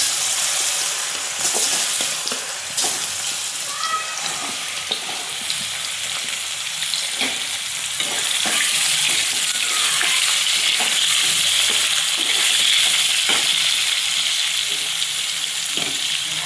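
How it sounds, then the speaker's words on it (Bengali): Papaya pieces fry in a pan, giving a continuous close, fairly loud sizzle with scattered light knocks of a spatula stirring throughout; no voices. "এখন পেঁপেগুলি ভেজে নেব।"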